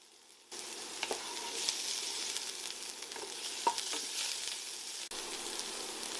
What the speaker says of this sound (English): Start by sautéing the onions in a little oil.